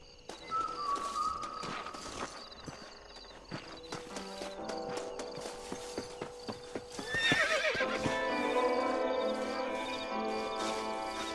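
Horse in the Red Dead Redemption video game, with steady clip-clop hooves on the ground and a loud neigh partway through, set against a busy game soundscape with faint birds.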